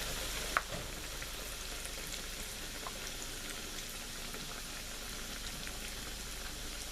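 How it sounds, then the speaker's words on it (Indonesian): Egg omelette frying in hot oil over medium heat in a pan, a steady broadband sizzle with a soft crackle that holds evenly throughout, with one brief sharp tick near the start and no voices. "selanjutnya setelah minyaknya panas, kita bisa langsung goreng telur dadarnya ya."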